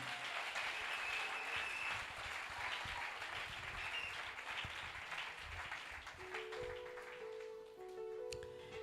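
A church congregation applauds together in sustained, fairly distant clapping that fills a reverberant hall, with a few faint tones rising near the end.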